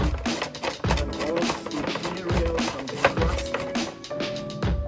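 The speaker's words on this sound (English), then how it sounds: "We chopped some wood." Wood being chopped by hand at an open-air museum, with repeated heavy thuds landing at an irregular pace, close and fairly loud, over busy background activity.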